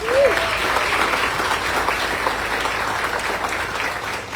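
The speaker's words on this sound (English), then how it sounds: "Can you give them a round of applause?" An audience at an arena groundbreaking applauds cheerleaders and student scholars, a dense, sustained burst of clapping from a sizeable crowd that stays fairly even throughout, with a brief whistle at the start.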